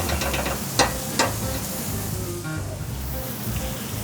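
Butter sizzling in a hot pan alongside seared elk, a dense steady frying hiss with two sharp knocks early on and faint talk underneath.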